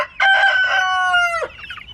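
A rooster crows loudly and close by in one long call, trailing into brief clucking from nearby chickens.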